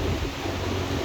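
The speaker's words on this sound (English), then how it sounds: "Sorry about the fan." Steady broadband whooshing of an electric fan blowing close by, a constant airy rush with no talk.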